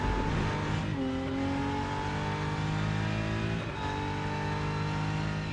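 A race car engine in the Rennsport racing game revs out hard in a steady high-pitched whine that climbs through gears, with shift drops near the start and middle, loud and continuous, no talk.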